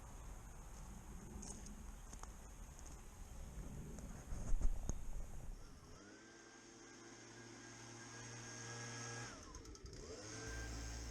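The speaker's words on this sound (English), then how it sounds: "my first job before I start mowing this lawn is to just go around with a leaf blower" A gas-powered leaf blower runs on a damp lawn before mowing. It starts as a rough, gusty roar, then settles into a steady, close engine whine with a sustained hum that dips briefly near the end.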